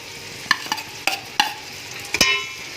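Sliced onions fry in oil in a pan, a low background sizzle broken by several sharp stirring clicks and scrapes at uneven intervals, close and without voices.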